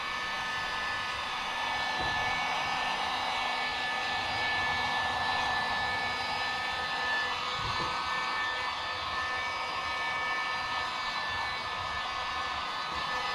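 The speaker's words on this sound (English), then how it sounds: "Get your heat gun." A handheld heat gun blows hot air onto a Halloween skeleton prop, a steady loud whooshing roar with a faint tonal whine that runs unbroken for the whole stretch, with no speech.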